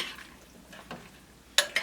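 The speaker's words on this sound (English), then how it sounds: "I'm going to stir this around." Seasoning being stirred into a pot of brisket chili, heard as a soft, brief scrape with a couple of sharper clinks near the end, close and alone.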